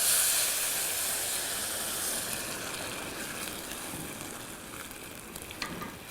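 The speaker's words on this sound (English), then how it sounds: "So now I'm going to add some water. I have got boiling water" Steady hissing sizzle of boiling water poured onto toasted couscous in a hot pan, bursting loud at first then settling into a softer, continuous bubbling steam with faint clinks.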